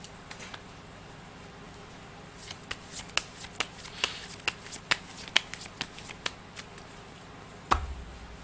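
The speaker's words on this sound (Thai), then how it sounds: "เดี๋ยวจะมาเสี่ยงไพ่ดูให้เพิ่มเติม" Fortune-telling cards are shuffled close by in a run of crisp, rapid riffling snaps that quicken and end in a soft thump, with no talking.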